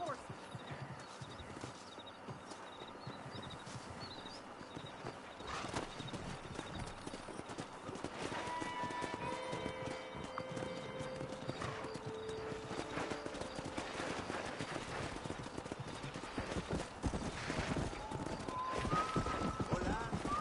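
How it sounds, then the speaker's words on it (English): Horses gallop in the Western video game Red Dead Redemption, with fast rhythmic hoof clip-clop running steadily for about twenty seconds and an occasional whinny, under game music and intermittent speech. "Let's see if we can't wrangle some horses."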